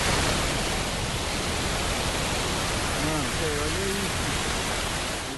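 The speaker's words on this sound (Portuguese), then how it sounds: "O vídeo, feito por um passageiro de ônibus, revela a força d'água." Heavy rain and rushing floodwater heard from inside a bus, a loud, dense, continuous hiss and roar that fills the whole stretch, with a faint voice-like tone briefly in the middle.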